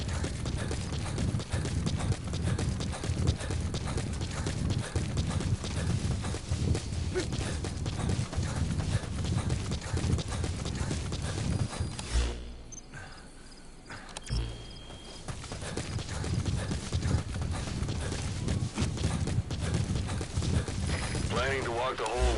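Rhythmic hoofbeats of a horse in the video game Metal Gear Solid 5 clip-clop steadily over a busy game soundscape with insects, pausing briefly midway before resuming.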